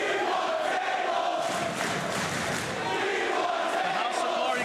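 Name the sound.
wrestling crowd cheering and chanting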